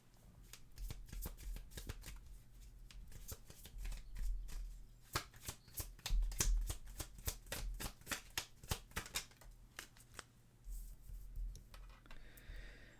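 Unicorn oracle cards being shuffled by hand, a steady run of crisp riffling slaps and flutters close up, with no voices.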